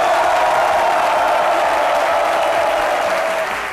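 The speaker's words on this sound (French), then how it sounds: "du doyen Cassie, que je vous demande d'applaudir" Indoor audience clapping steadily at a French-language gathering, a dense, loud burst of applause held for several seconds before tapering slightly at the end.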